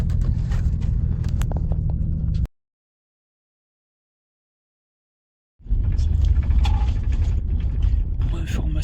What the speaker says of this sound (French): Un bus dans les zigzags là qui descend